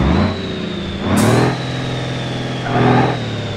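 Car engine in the BeamNG.drive driving game, a steady mid-pitched drone with two louder revving swells, loud and alone.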